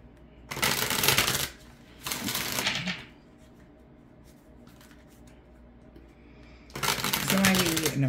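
Tarot cards are shuffled in three distinct bursts of crisp, riffling flutter, close and fairly loud, separated by quieter stretches with faint background sounds.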